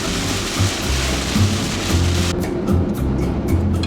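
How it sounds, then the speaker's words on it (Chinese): Heavy rain drums steadily on a car while driving in stop-and-go traffic, a dense continuous wash with a low engine or road rumble beneath, loud and close throughout. "下大雨了。"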